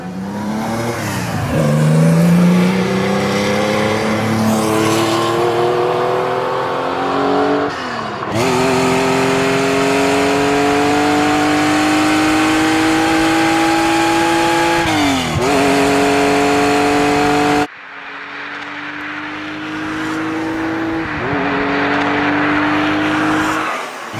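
A Porsche engine revs hard and loud, climbing through the gears in long rising pulls, alone and close, with brief shifts and gaps between runs.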